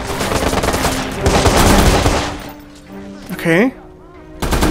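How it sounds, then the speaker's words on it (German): Enemies fire guns in the Watch Dogs video game, a loud, dense rattle of rapid shots for a couple of seconds that then fades, followed by a short voice and another burst. "Die schießen aber ziemlich hart."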